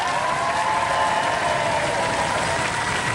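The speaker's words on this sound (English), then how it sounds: "Well, give him a round of applause, ladies and gentlemen!" A television studio audience at a robot combat show applauds continuously, a dense, even wash of clapping that holds at a steady level throughout.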